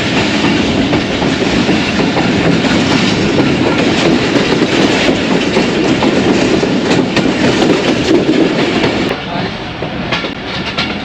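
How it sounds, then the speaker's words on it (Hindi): The rake of the 18 Down Millat Express rolls toward the platform with a steady, loud rumble and rhythmic clickety-clack of wheels over rail joints, easing slightly quieter near the end. "एटीन डाउन मिल्लत एक्सप्रेस का रेक था ये, जो कि प्लेटफॉर्म पे प्लेस होने के लिए जा रहा था।"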